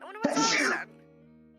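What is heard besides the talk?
sneeze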